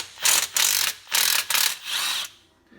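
An impact wrench with a conventional socket hammers on the water pump of a 1973 Mustang 302, giving five close, loud rattling bursts in quick succession, each under a second, with no talking.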